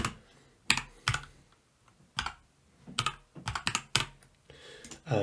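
Quiet, close typing on a computer keyboard as a name is entered, with irregular clusters of soft key clicks and short pauses between them.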